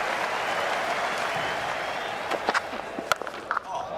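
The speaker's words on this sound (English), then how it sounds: "Warm applause." Steady cricket crowd applause fills a large open stadium, with a few sharper claps and knocks standing out near the end.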